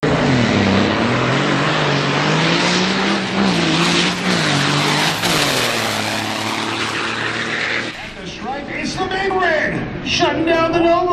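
An Audi drag racing car accelerates down the strip with a loud, continuous engine roar whose pitch sweeps upward through the run, and a voice is heard over the noise.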